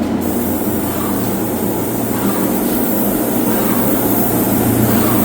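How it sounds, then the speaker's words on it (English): A steady, continuous hiss of a spray gun applying finish to drawer boxes in a spray booth runs without a break over a low mechanical hum. "get the spray booth set up, and start spraying"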